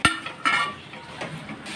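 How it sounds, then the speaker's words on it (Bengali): Chicken and potatoes stirred into spice masala in a pan, with a loud metal clack at the start followed by softer scraping and a low sizzle. "মশলাটায় তেল উঠে গেছে, এবার আলু আর চিকেনটা দিয়ে আবার কষবো।"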